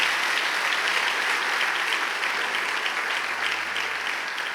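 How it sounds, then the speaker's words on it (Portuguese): A church congregation claps loudly and steadily throughout, a dense, even wash of applause with no voices above it. "Aplauda bem forte no nome de Jesus."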